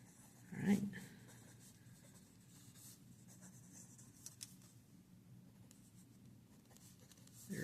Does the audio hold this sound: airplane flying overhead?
no